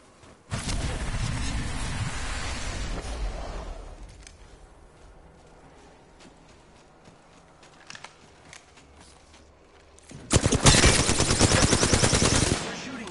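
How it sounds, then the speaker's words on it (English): Bursts of machine-gun fire in a battle-royale video game, a long loud volley at the start, a quieter lull with scattered distant shots, then another hard burst near the end. "They're shooting at me."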